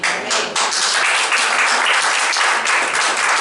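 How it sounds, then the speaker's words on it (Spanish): Dense, loud applause fills a church meeting in San Javier, the congregation clapping steadily and continuously with no break. "Un aplauso para Cristo, que está acá."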